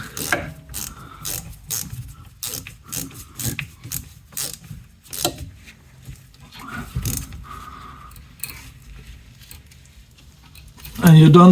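A hand ratchet clicks in rapid bursts while tightening a brake caliper bolt on a VW Passat with an electronic parking brake, crisp close pawl ticks, then a pause and a loud clunk at the end.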